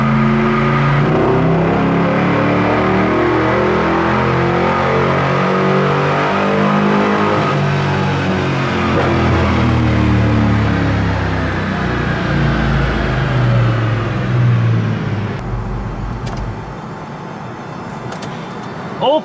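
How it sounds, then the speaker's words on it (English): A Chevelle engine revs hard and loud on a dyno for a long sustained pull, the pitch climbing and holding through the gears before easing off near the end. "As we were driving on the dyno and attempting to do a pull"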